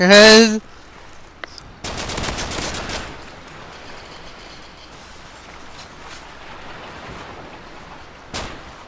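Warning shots fired in the Nobunaga's Ambition strategy video game: a loud burst at the start, then a long crackling volley of gunfire that fades into low noise, with one more short shot near the end.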